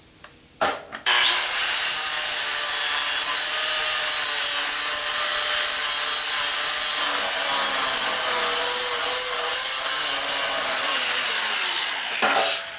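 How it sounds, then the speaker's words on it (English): A saw blade cuts through a weld while fixing air lines on a sand bead blaster, giving a loud, steady high-pitched grinding whine that runs for about eleven seconds after a couple of short knocks, then stops. "You gotta cut the weld."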